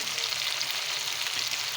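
Food fries in hot oil over a charcoal fire with a steady, bright crackling sizzle, close and continuous, with no talking.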